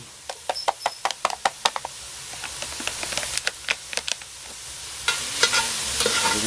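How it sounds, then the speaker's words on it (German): Bacon, 200 grams, sizzling in a Petromax ft6 Dutch oven, with a steady frying hiss and a run of sharp knocks and scrapes from stirring, the crackle swelling louder toward the end. "Jetzt kommt der Speck hinein."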